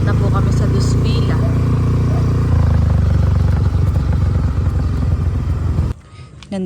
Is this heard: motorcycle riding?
yes